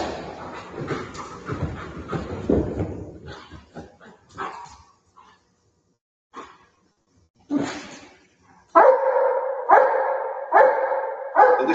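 Police dog barking in a played-back recording from a police search demonstration: a stretch of rough, overlapping barks and whimpers, a few scattered yips after pauses, then several loud, sharp barks near the end.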